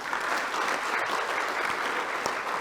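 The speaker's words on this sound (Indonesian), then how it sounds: "Masing-masing tepuk tangan untuk dirinya." Brief burst of dense applause from a seated audience at an open senate ceremony of a theology school in Jayapura, steady and moderately loud for nearly three seconds.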